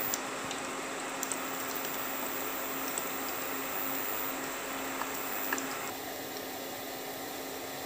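Medu vada frying in hot oil give a soft, steady bubbling crackle with faint pops, quiet and continuous.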